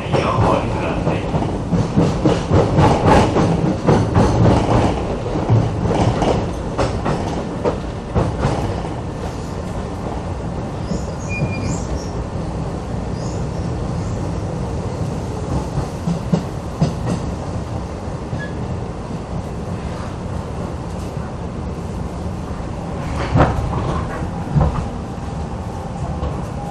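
Keisei 3500 series refurbished commuter train running from Keisei Tsudanuma toward Chiba-Chuo, a steady loud interior rumble with rail clatter and rolling noise throughout, heavier jolts early on and near the end, with no talk.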